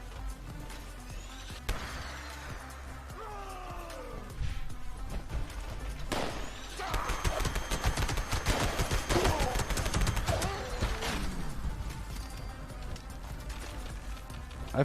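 A Gauss minigun fires in Fallout 76, rapid dense bursts of repeated shots forming long rattling volleys with whirring, electric tones, loud and close amid other game noise.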